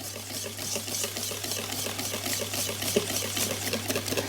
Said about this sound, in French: mon beurre fondu que je rajoute dans les œufs et le sucre.